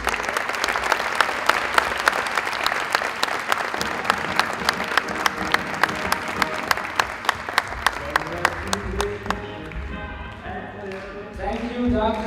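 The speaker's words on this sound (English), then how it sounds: "huge round of applause for all these graduates" A graduation ceremony crowd for Grade 8 graduates breaks into sustained applause, dense clapping that thins out toward the end as a few claps linger and voices begin to murmur.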